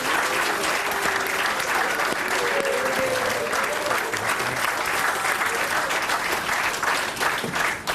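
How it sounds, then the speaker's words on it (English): A studio audience applauds a mystery guest on a quiz segment, a sustained wash of clapping and crowd noise throughout, with some voices faintly audible underneath. "Ladies and gentlemen, big round of applause for the mystery guest"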